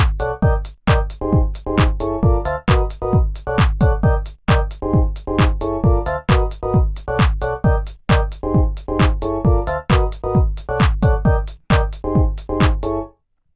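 A loud, dense electronic house beat built in FL Studio pumps steadily, with sharp, regular hi-hat ticks and heavy low thumps repeating in tight, even bars with no voice.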